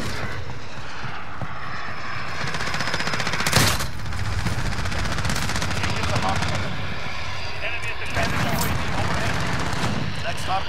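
Rapid RAM-7 rifle fire aimed at a UAV in the Modern Warfare video game, a sustained dense crackle of shots with sharper bursts, set under continuous game noise and aircraft drone.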